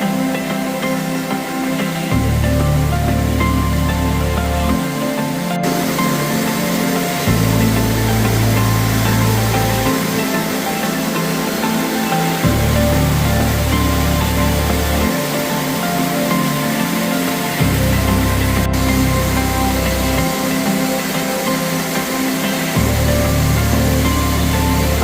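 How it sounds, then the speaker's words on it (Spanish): Waterfall cascades at Puente de la Pontona in Redes natural park, Asturias, several drops pouring together in a loud, steady, broadband roar that holds unbroken throughout with no voices. "tras cruzarlo nos encontramos con una de las cascadas más impresionantes de la ruta"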